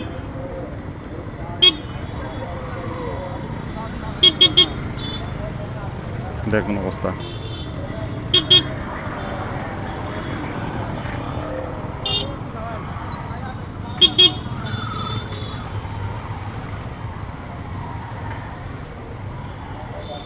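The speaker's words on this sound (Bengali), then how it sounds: "সাইডে দুই দিকেই পুরোটাই জ্যাম" Traffic jams up at a rail crossing in Kushtia town, where car horns give several short, sharp toots, some in quick pairs, over a steady roadway rumble while someone talks throughout.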